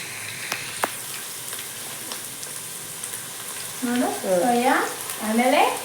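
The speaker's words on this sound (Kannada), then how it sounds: "ಈಗ ನೆಕ್ಸ್ಟ್ ಇದು ಸಾಸ್ ಹಾಕಿ ಸೋಯಾ ಸಾಸ್ ಹಾಕಿ" Cabbage and other vegetables sizzle and fry steadily in a pan as soy sauce is poured in, the crackle close and continuous, with a voice speaking over it toward the end.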